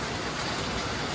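Steady rain falling outdoors on a sunny day, a loud, dense, even hiss of drops with no pauses or talk.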